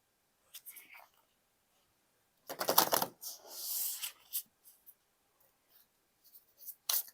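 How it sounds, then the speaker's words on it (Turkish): Tarot cards are drawn from a deck in quiet, close rustles and flicks, with one longer burst of shuffling in the middle and scattered soft card sounds around it. "Hemen gelelim şu destemizden 5 tane kart alalım."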